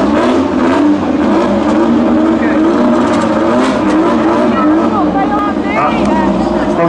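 Flat-four Volkswagen Beetle race cars drag racing side by side at a European Bug-In, engines roaring loud and sustained throughout as they accelerate hard, with a commentator talking over the noise.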